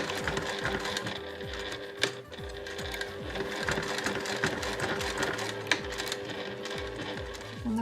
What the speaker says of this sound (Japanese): 倒したらこの際を縫います。